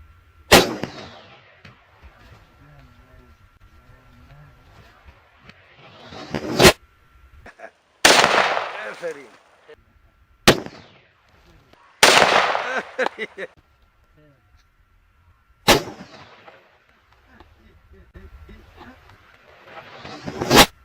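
Single shots from an AK-47 rifle firing 7.62 caliber rounds, about six sharp, loud cracks spaced several seconds apart, with quiet gaps and faint background hiss between them.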